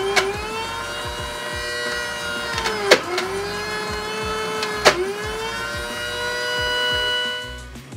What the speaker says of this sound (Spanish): Y otra vez a licuar.